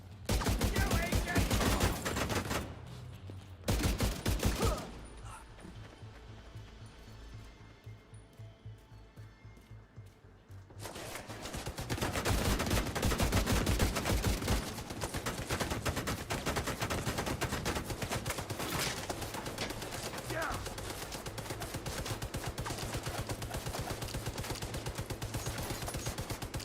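Sustained automatic gunfire from a game of The Division 2 fills the scene in long, dense bursts, broken briefly by a pause and a quieter stretch before rapid firing resumes and continues steadily.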